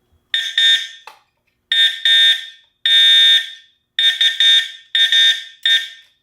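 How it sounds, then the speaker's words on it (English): A newly installed fire alarm horn blares in loud, harsh, buzzing bursts, mostly in short pairs separated by brief silences, close and alone. "Alright, now let's see what this sounds like."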